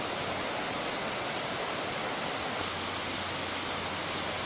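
Water from a ditch off a small bog plunges from a 47.5 m limestone cliff in Estonia, a steady broad rushing roar, uniform and unbroken throughout, heard from a moderate distance.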